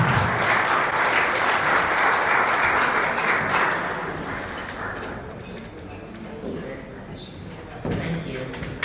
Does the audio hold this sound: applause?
yes